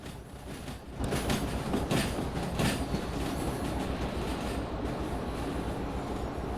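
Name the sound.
locomotive train running on rails in the video game Derail Valley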